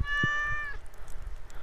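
A cat in the farming video game Stardew Valley gives a single clear, drawn-out meow lasting under a second, close and fairly loud, followed by quiet game ambience.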